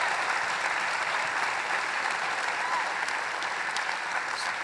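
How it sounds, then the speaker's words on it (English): An audience at a tech rally claps in steady, dense applause that continues throughout, with a faint voice or two underneath. "Round of applause for that story."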